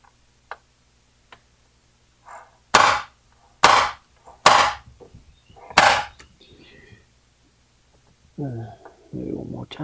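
Four sharp metal taps of a hammer and punch widen a small indentation before drilling a second hole during a Pioneer SX-1280 power supply repair, spaced about a second apart, with faint handling noises and brief talk afterward.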